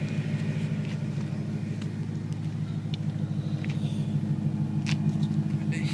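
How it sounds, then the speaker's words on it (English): A BMW M3 E93 fitted with a Meisterschaft GT2 exhaust idles close by with a steady, deep, even burble that holds constant throughout, with a few faint clicks over it. "record a quick video to show you guys how it sounds"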